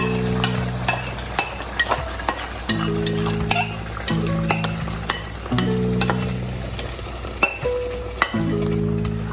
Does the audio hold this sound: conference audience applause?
no